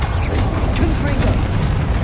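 A Confringo spell blast in the Hogwarts Legacy game on PS5 gives a loud, rumbling explosive boom that fills the whole moment, with a voice audible alongside it.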